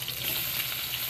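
Meat frying in a generous amount of cooking oil, a steady close hiss and sizzle running unbroken throughout.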